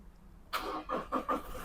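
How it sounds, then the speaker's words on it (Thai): Push-button start of a 2018 Toyota Fortuner 2.4 V diesel: a sudden starter crank, then a few rhythmic pulses as the engine catches, recorded close and fairly quiet, with no talking. "เดี๋ยวผมสตาร์ทเครื่องให้ดูเลขไม้ครับ คันนี้เป็นระบบพุทสตาร์ทนะครับเหยียบเบรกกดปุ่มได้เลยนะครับผม"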